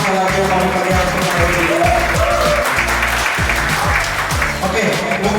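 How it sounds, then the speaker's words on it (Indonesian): An audience at an anniversary celebration gives a round of applause, dense sustained clapping from many hands, loud and near, continuing across the whole stretch with a voice speaking over it. "Kita berikan tepuk tangan sekali lagi"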